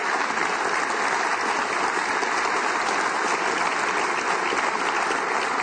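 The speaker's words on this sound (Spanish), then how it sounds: "yo creo que un aplauso ni siquiera es suficiente para ellos" Dense, even audience applause at a Venezuelan political talk broadcast, a steady wall of clapping that holds at constant loudness throughout with no voices over it.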